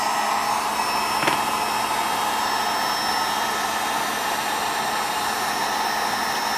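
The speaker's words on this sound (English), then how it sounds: "I have this on a low setting. I'm just going to work my heat gun right over the top of that." A heat gun running on a low setting over broken violin rosin, a loud, steady blowing whoosh that holds constant throughout with no talking.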